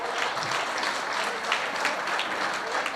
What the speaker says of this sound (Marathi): यांना हा सन्मान देत असताना टाळ्यांचा गजर व्हायला हवाय